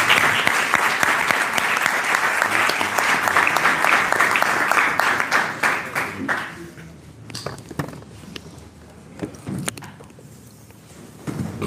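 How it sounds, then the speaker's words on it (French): An audience at a French book presentation and signing applauds in a full burst of clapping that lasts several seconds. The clapping thins into scattered claps and faint room noise. "Applaudissez encore."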